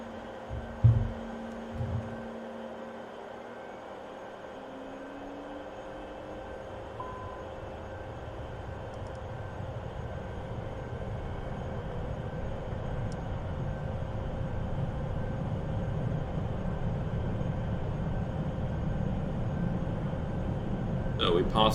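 An Embraer E170 in a flight simulator game rolls down the runway for takeoff. A low, even rumble slowly swells louder over a steady background hum, with a few faint clicks near the start.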